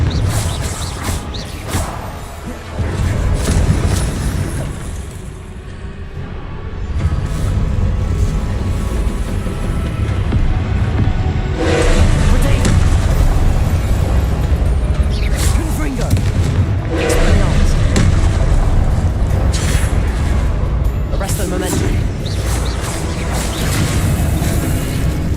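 Explosive Confringo spell blasts in Hogwarts Legacy boom repeatedly amid heavy rumbling battle noise, loud and dense throughout, with a voice speaking over them.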